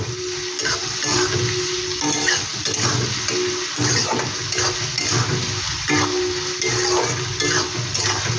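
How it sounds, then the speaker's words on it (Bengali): Onions frying with salt in a pan, a continuous crackling sizzle with a utensil scraping and stirring at intervals, moderately loud and up close, no talking. "এখানে একটু লবণ দিয়ে দিলাম, তাহলে পেঁয়াজটা ভালো তাড়াতাড়ি ভাজা হয়ে যাবে"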